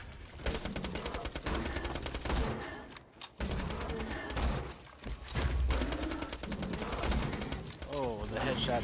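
Rapid gunfire in the video game Borderlands 2, dense bursts of shots stacked in quick succession with a short pause midway, loud and continuous, with a voice talking over the shooting.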